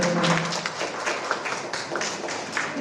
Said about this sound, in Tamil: குழந்தைகளுக்கு கைத்தட்டி உற்சாகப்படுத்தி வரவேற்கிறோம்